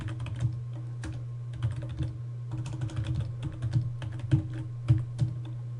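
Keys clatter on a computer keyboard as code is typed, irregular bursts of close, crisp taps with short pauses, over a low steady hum.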